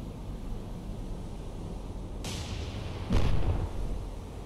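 Naval guns pounding an enemy ship in War on the Sea, Dutch East Indies campaign: a distant boom, then a heavier, louder blast with a rumbling tail over steady sea and engine noise.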